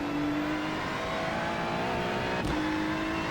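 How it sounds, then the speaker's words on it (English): A GT race car engine in the iRacing sim at Mount Panorama, a loud continuous high-revving drone with a quick gear-shift dip partway through. "The engine's a little bit loud."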